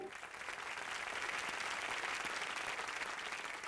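Steady audience applause on a TV game show, building quickly and holding a dense, even patter of many hands clapping at moderate volume with no voices on top.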